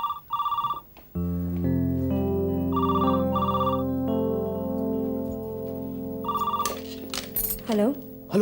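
A telephone bell rings in repeated short bursts, a pause between each pair, with a held musical tone and soft background score running beneath, then the ringing stops and a brief voice is heard.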